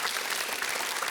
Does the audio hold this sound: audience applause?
yes